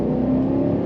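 A 2023 Chevy Suburban's engine pulls hard on an icy road, a steady loud drone with a rising hum from inside the large vehicle, heard alone without talk.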